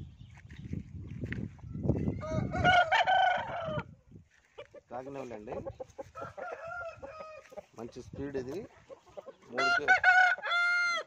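Roosters crow loudly nearby in several long, strained calls, mixed with clucking and farmyard noise, while someone talks over part of it.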